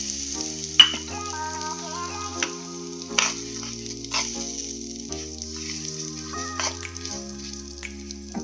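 Broken wheat being roasted and stirred in a pan, a soft dry sizzle with occasional sharp clicks of the spoon, heard beneath steady background music.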